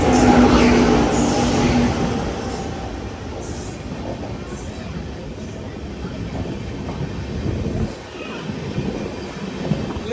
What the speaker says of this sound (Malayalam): ട്രെയിൻ ഇപ്പം നെയ്യാറ്റിൻകര സ്റ്റേഷനിലെത്തി